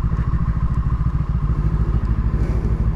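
A Brixton Crossfire 500 motorcycle engine runs close by with a rapid, throbbing pulse and slight rises in revs, loud and alone with no voices.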